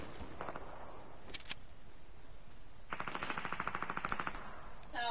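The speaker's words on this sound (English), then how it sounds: "There are gunfire to your left, behind you, basically." Bursts of rapid gunfire crackle at a moderate distance in a PS4 video game, a couple of sharp single shots followed by a longer automatic volley, over steady background noise.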